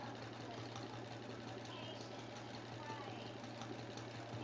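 A sewing machine does free-motion scribble and zigzag quilting on a quilt block, giving a steady, fast mechanical whir with a continuous low hum. It runs close and even and does not stop.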